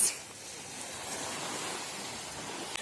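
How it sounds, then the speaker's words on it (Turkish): Sea waves wash onto a Miami beach, a steady broad rushing surf noise heard at moderate level without speech, with a faint click near the end. "Burada da deniz."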